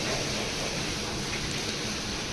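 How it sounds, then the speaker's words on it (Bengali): Hilsa fish fries in hot oil at a riverside eatery, making a dense, steady hiss of sizzling that fills the whole stretch evenly with no talk. "তো শুনতেই পাচ্ছেন ইলিশ মাছ ভাজার শব্দ"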